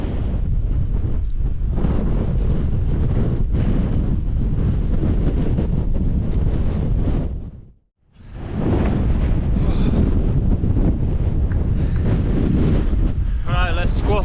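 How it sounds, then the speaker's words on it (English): Strong gusts batter the microphone on an exposed fell near Stickle Tarn in the Lake District, a loud roaring rumble that drops out briefly midway and then returns, close and continuous. "Let's get out of that wind."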